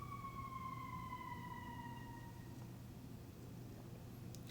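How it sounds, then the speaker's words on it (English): An emergency vehicle siren wails from a distance, a steady falling tone that fades after a couple of seconds over a constant low hum of room noise. "Do you guys hear the siren?"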